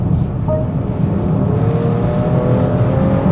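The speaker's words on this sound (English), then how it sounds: "the B58 making that bit of a muted grunt" A 2024 BMW X5 40i with its B58 engine surges in acceleration, a muted, steady engine grunt with rising whir heard from inside the quiet cabin, continuous and moderately loud throughout.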